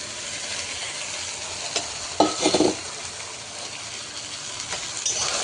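Spiced boiled chickpeas go into a pan of softened onions, a steady hiss of frying with a short clattering burst of stirring midway and lighter scrapes after it.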